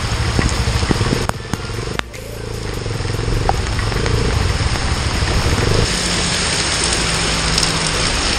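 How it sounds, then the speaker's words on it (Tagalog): Heavy rain pours steadily on a surface during a rainy mototaxi ride, a dense continuous hiss with a motorcycle engine idling and rumbling low underneath, a brief dip near two seconds. "lumakas pa yung ulan"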